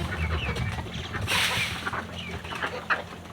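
Desi chickens clucking on a small village farm, scattered soft clucks and calls at moderate distance over a busy outdoor background with faint voices.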